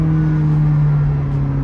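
A supercar engine holds a loud, steady droning rev as it accelerates, heard from close up inside the car with no other sounds on top.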